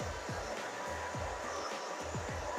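Hair dryer blowing on a short pixie haircut, a faint, steady airy whoosh with a continuous motor hum and no pauses.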